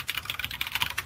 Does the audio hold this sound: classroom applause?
no